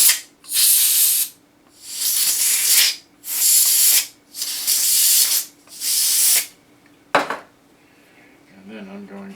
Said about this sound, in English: spray either end out